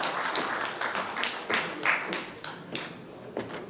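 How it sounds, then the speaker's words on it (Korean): Audience applause at a memorial ceremony and founding event for a commemorative society, a moderate, scattered patter of many hands clapping irregularly that thins toward the end, with faint voices underneath. "뜨거운 박수를 보내주십시오"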